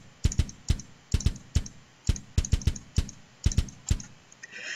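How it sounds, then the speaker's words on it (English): Computer mouse and keyboard clicking close by, a quick irregular series of sharp plastic clicks and taps, sometimes in pairs, alone without any talk. "Now that's just me clicking around"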